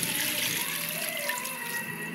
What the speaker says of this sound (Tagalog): So, tapos lagyan natin tubig mga higan.